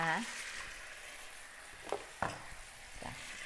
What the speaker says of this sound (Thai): เอาหัวมาผัดพริกแกงก่อนนะคะ